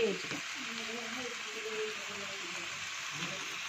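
Steady hiss of spices and turmeric sizzling in hot oil for a tadka, a continuous frying crackle with faint voice-like murmurs underneath.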